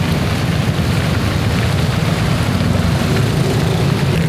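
Dense, steady downpour of heavy rain, a constant loud wash of noise with no pauses.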